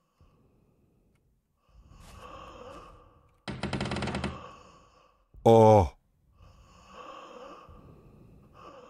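Heavy breathing comes in several long, breathy exhalations and sighs in a quiet room. A harsh rattling burst and a loud sharp noise break in partway through, and a voice gives a short exclamation.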